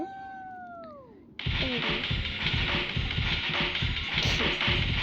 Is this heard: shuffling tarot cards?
no